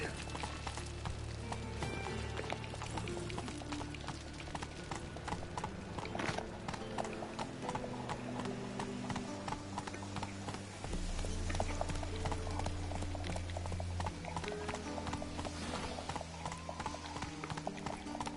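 Roach, a horse in The Witcher 3, gallops with steady, rhythmic clip-clopping hooves throughout, set against a dense game soundscape with music and ambient layers.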